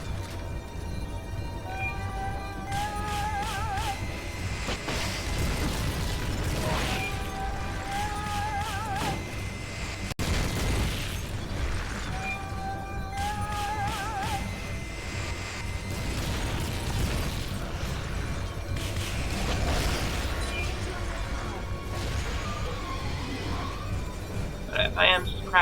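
Rocket explosions and mechanical clatter during a boss fight in Metal Gear Solid: Peace Walker, repeated bursts and booms over a dense, continuous game soundtrack with beeping alert tones.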